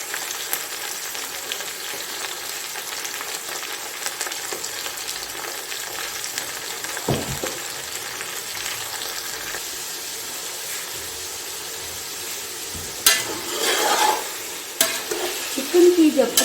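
Chicken sizzles and fries in a pan with crushed ginger and garlic for biryani, a steady loud crackle with stirring scrapes and a few louder clatters toward the end, no talking.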